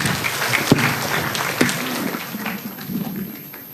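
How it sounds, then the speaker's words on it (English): A university lecture audience at UniMaP applauds as Ustad Nouman Ali Khan is welcomed to the stage: a broad, even wash of clapping from a sizable crowd that slowly tapers off. "Ladies and gentlemen, give a big round of applause to Ustad."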